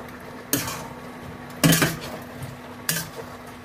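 Braised sea cucumber being mixed in a pan, heard as three distinct clanks of a utensil against cookware amid soft scraping, fairly close, with no talking.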